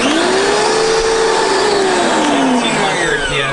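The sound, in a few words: Karcher pressure washer rinsing a car with 40-degree nozzle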